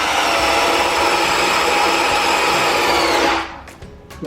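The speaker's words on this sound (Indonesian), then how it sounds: "untuk pengeboran kalian bisa di gear 2 dulu" A Mollar CDD585 12V cordless drill runs in gear 2, boring steadily with a loud, continuous whine that holds for over three seconds, then cuts off into brief quieter taps.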